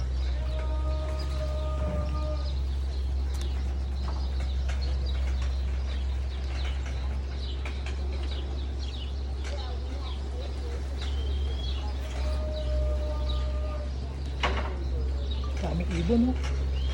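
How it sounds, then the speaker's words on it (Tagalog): Racing pigeons in a loft chirp and coo sporadically over a constant low hum, with people talking nearby throughout. "Dami ibon, no?"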